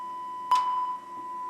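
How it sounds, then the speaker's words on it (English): A Yamaha R1000 digital reverb emits a sonar-like ping: a steady pure electronic tone holds throughout, with a sharp bright ping at about half a second that decays over a clean, quiet background. "It sounds like one of those submarine pings from a submarine movie."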